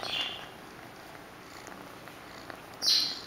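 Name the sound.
kitten purring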